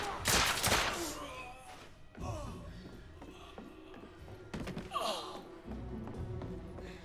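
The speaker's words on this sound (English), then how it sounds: "Bad guys shooting at you." Enemy gunfire in The Order: 1886, heard as a burst of shots at the start and then scattered distant reports and impacts over quieter game ambience, with a few soft voice-like sounds between them.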